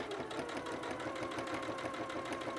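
A sewing machine runs steadily while stitching a quilted, self-bound tablecloth, a faint continuous mechanical whir with a rapid even needle rhythm.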